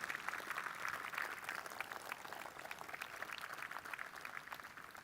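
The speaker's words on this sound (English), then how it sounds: "I just want to give them a huge round of applause" Faint, distant audience applause at a City of Long Beach swearing-in ceremony: a steady wash of many hands clapping that holds evenly for about five seconds, with no talk.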